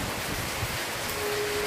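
Unseasonal rain falls steadily nearby, a continuous broad rushing hiss mixed with wind, with no voices.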